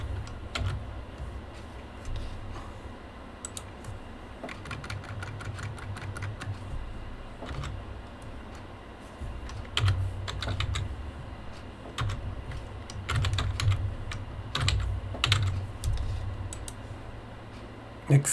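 Keys clatter steadily on a computer keyboard while code is typed, a quiet run of irregular clicks with a few louder bursts and a low background hum throughout.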